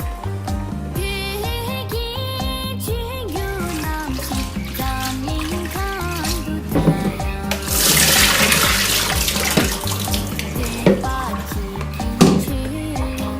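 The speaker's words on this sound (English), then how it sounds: "Now I'm going to strain the water." Water drains through a strainer as cooked udon noodles are poured off. A loud rushing gush lasts a couple of seconds under steady background music.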